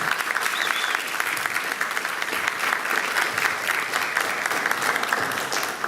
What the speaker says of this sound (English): How about a big round of applause for that?